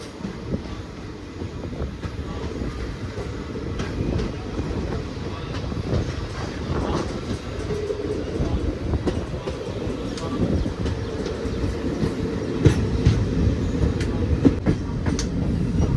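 Guruvayur-Madurai Express train running steadily just after leaving Thenmala station, heard from on board as a continuous rumble with irregular wheel clicks and rattles, a low roar that builds slightly over sixteen seconds.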